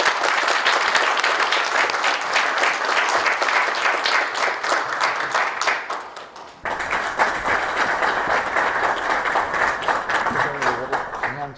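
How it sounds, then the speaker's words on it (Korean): A seminar audience applauds steadily for a special lecture, the clapping dense and continuous, dipping briefly partway through before resuming at full strength. "큰 박수 부탁드리겠습니다"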